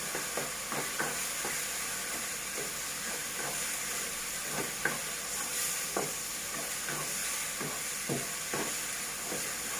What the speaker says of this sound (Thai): ผัดส่วนผสมทั้งหมดให้เข้ากันนะคะ